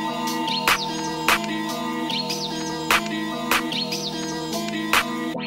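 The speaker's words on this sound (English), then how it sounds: "can you hear the birds singing?" Repeated bright chirps and tweets from birds, returning in short bursts every second or so over a steady tonal musical backing.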